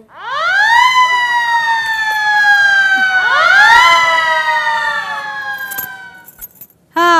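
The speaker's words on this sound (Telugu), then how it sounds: "రాజమందిరంలో సైరన్ మోగింది" A loud wailing siren sound effect rises and falls in two long sweeping cycles during a TV game show, then fades out before a brief clatter at the end.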